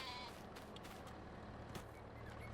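Sheep bleating in the Farming Simulator 22 farming game, a few short calls over a steady low background hum of game ambience and machinery.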